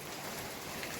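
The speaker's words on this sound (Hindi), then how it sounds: "बारिश गिरने लगा" Rain falls steadily in a continuous dense patter of drops on surfaces, even and fairly soft throughout with no voices.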